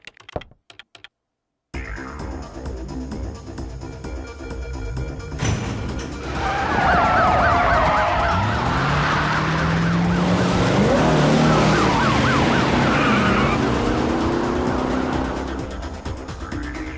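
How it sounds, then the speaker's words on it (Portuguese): A police car siren in the Parasite Eve video game wails in rising and falling sweeps over a low engine rumble. It starts after a short silence and stays loud and continuous. "Ligaram a sirene."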